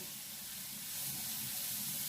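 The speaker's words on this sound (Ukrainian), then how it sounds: "Так, сковорідка розігрілась. Викладаю грибочки" Mushrooms tipped into a preheated frying pan give off a soft, even sizzle, a steady hiss that swells slightly midway and holds constant, heard close and alone.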